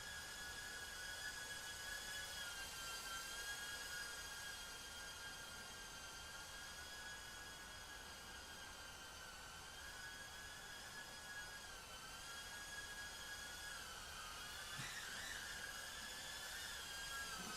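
A Mobula8 Pavo FPV drone flies indoors with a steady, high-pitched whine throughout, wavering in pitch as the throttle changes.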